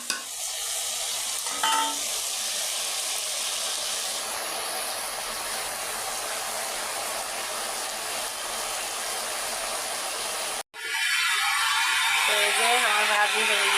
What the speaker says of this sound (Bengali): তো এই যে আমি আলু ভাজি করছি আলু ভাজিটা চুলায় দিয়ে দিলাম